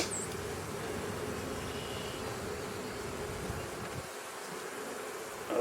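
A dense, steady buzz of honey bees swarming around an opened hive in winter, continuous and fairly close, with no voices.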